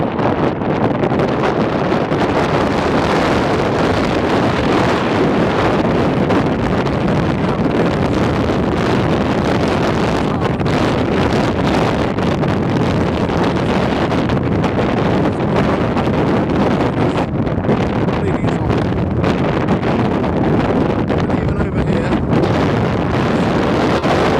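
Strong wind roars steadily into the microphone on a Lake District fellside above Ennerdale, a loud, constant buffeting rush with no pauses.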